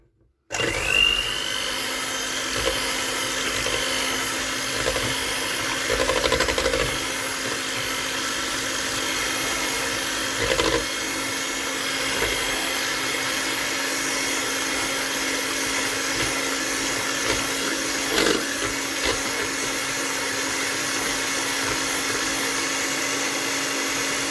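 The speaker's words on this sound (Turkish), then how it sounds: "yumurtalarımı önden bir şöyle mikserimle çırpacağım bir hafiften" An electric hand mixer whisking eggs whirs steadily and loudly after a brief start, a constant high-pitched electric drone that hardly varies throughout, with no voices.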